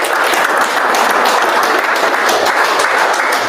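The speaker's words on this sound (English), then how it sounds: "Let's give him another round of applause there." Sustained audience applause fills a hall after a talk on Ojibwe grandfather teachings, a dense, steady wash of many hands clapping at even loudness throughout.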